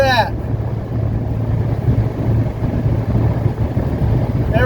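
A 1980 Mercedes 300SD diesel cruising at about 3,000 RPM gives a steady, loud low drone with road and wind roar, continuous and unchanging throughout.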